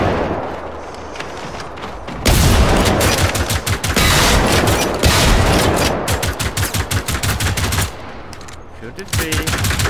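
Sustained automatic gunfire from a firefight against a battle dog robot in the video game Generation Zero, loud dense bursts of rapid shots with brief lulls, a softer stretch early and heavier volleys through the middle.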